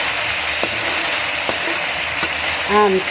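Pork adobo made with kasim (pork shoulder) fries in a pan with a steady, close, broadband sizzle and a few brief clicks, ending in a faint tonal whine.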